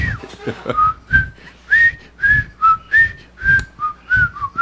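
A person whistles a tune in a series of short, clear notes with brief breath pauses between them, close to the listener, with no talk.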